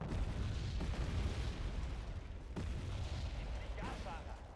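Artillery fire-support explosions in the real-time strategy game Wargame Red Dragon, with a couple of heavy booms and rolling rumble against continuous battle noise, moderately loud and somewhat distant.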